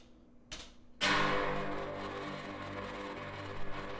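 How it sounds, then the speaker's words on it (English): Low dulcimer notes from an Omnisphere patch: a soft plucked onset, then a bright, struck note that rings out and slowly decays with a shimmering, sustained tail. "They have a dulcimer in there. Sounds like this."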